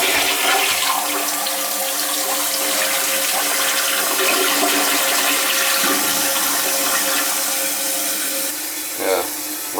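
Water runs continuously through a toilet tank that keeps running, a steady rushing hiss close by that eases briefly near the end.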